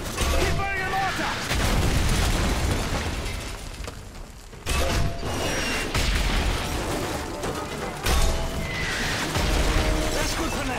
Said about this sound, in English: If it moves, put a mortar shell on it.